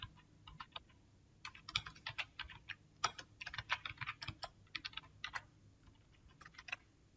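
Quiet bursts of close key clicks come from a computer keyboard as text is typed into a cell in MS Office on Windows 10, with brief pauses between runs of keystrokes.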